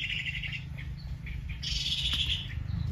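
A male sunbird calls with clear high chirps from inside a bird trap, the bright notes rising over a constant low rumble, loudest near the middle of the stretch.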